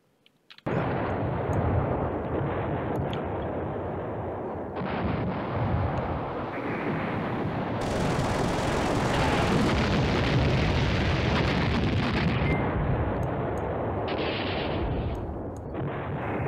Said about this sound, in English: we have an airstrike. I want it on this tank.